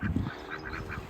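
A group of geese at a farm honking, several short nasal calls in quick irregular succession, moderately close but fairly quiet, with no talk over them.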